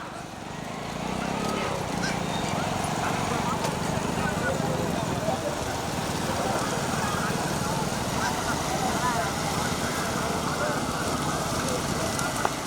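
Bulls pull a cart at speed in a bullock cart race, their hooves giving a steady, rough clatter under a constant crowd roar and loud commentary that run through the whole stretch.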